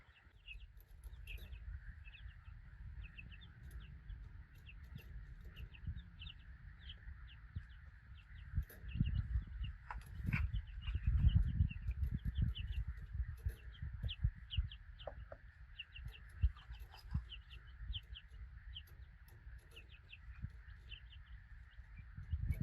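A flock of young chicks in a brooder gathered around a nipple drinker, chirping and peeping continuously at close range, with scattered sharper calls and soft scuffling, and no talking.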